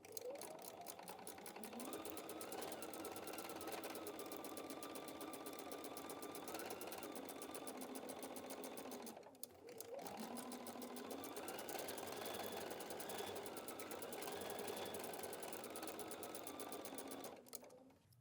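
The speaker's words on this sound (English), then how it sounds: "So now I'm going to take this to the machine and I'm going to sew on these lines" A sewing machine runs steadily along marked lines on a quilted wall hanging, a close, continuous mechanical whirr with rapid ticking, pausing once briefly midway before resuming and stopping at the end.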